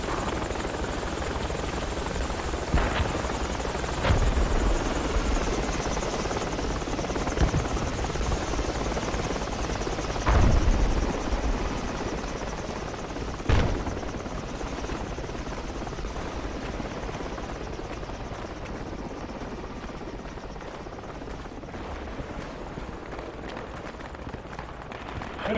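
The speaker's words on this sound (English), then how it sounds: "Chopper." A helicopter in the military video game Project Reality thrums steadily and loudly throughout, a continuous rotor roar with a few brief thumps and bursts over it and no talk.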